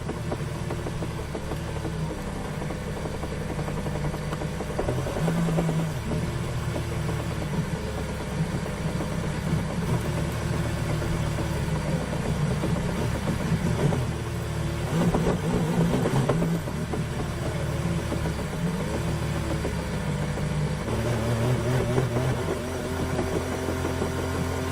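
Max Verstappen's racing car engine with a failure, running loudly and steadily throughout with rough, uneven pulsing, intermittent knocking and shifts in revs, heard close from onboard with no talk.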